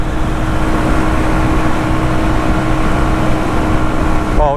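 Engine of a Shineray Worker Cross 150 motorcycle while riding on a windy road, a steady, loud low drone with wind rush, constant throughout.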